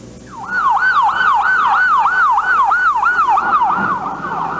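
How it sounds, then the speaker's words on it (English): Ambulance sirens wail at the scene of the 1995 Oklahoma City Murrah Building bombing, a loud, rapid rising-and-falling yelp repeating steadily and close by, with no voices over it. "The scream of ambulances."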